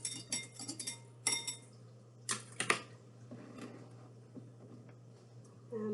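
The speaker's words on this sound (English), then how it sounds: "Just give it a quick whisk." Quick whisking of vinaigrette in a bowl for a green bean salad: a few bright clinking strokes in short bursts, separated by quieter gaps over a steady low hum, moderately close.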